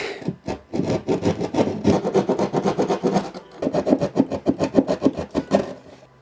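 A pull saw cutting wood, steady rhythmic rasping strokes close up and loud, in quick even runs with a short pause midway, no voices.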